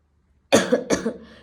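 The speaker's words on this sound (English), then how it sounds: "And if you are coughing," Two sharp coughs in quick succession, close and loud, followed by a fainter breathy tail.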